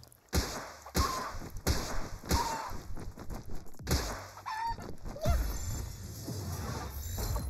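A chicken-like creature in the video game Palworld clucks and crows over game thumps and clatter, with several short calls across the stretch.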